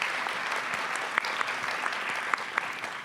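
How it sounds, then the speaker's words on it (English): Audience applause fills an arts and health summit hall, a steady wash of clapping hands with a few sharper individual claps standing out near the end. "Can we all just give one more round of applause"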